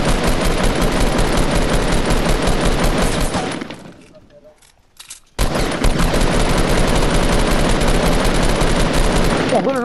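Loud, dense automatic gunfire in the Fortnite video game, sustained bursts that drop out briefly and then resume at full intensity, with a voice speaking over it.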